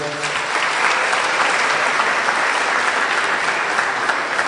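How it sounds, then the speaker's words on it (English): Dense, steady audience applause fills a campaign kick-off event for an assemblyman's re-election, many hands clapping close and continuously from start to finish with no pause. "I'd like to give Mohammed Jan a very nice round of applause"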